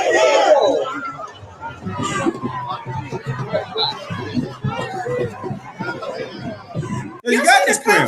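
Crowd noise at a protest facing police: a dense, steady murmur of many voices with scattered chuckles and chatter, swelling louder near the start and again at the end.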